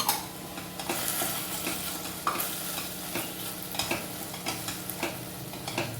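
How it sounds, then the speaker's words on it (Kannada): Tomato goes into a hot frying pan and sizzles softly, with a spoon or spatula stirring and scraping the pan in irregular strokes and no talking. "ಇದೊಂದು ಟೊಮೊಟೊ ಹಾಕ್ತಾ ಇದ್ದೀನಿ"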